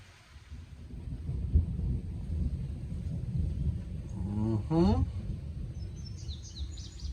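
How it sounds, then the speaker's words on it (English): A low, rumbling roll of thunder builds and lingers in the distance over the Appalachian Trail in Shenandoah, with a brief voice-like sound and faint bird chirps. "the thunder has been clapping still."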